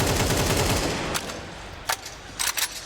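Gunfire in a Counter-Strike match at a StarLadder Budapest Major game: a dense rattling automatic burst, then a few sharp isolated shots after a lull, loud and close.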